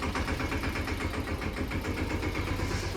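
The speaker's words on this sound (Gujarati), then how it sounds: "હવે ટ્રેક્ટર છે ને ભરાઈ ગયું છે તો હવે જાય છે વાડી" A loaded tractor carrying manure drives off toward the farm fields, its diesel engine chugging steadily and fairly close, with a continuous low rumble and no voices.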